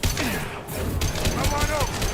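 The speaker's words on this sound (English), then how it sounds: "Shotgun!" Shotgun blasts and gunfire in the Mass Effect 2 Legendary Edition video game, a burst of heavy booming shots mixed with combat effects and a shouted voice over the action.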